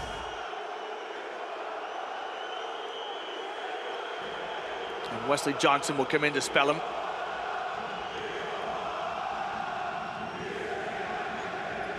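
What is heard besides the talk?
basketball crowd in the Peace and Friendship Stadium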